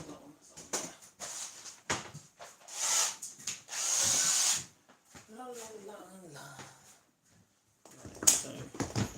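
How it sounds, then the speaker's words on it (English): Power drill boring holes straight through wood for a small barn door, short whining bursts of drilling near the mic, alternating with someone talking. "I want to drill those holes right through."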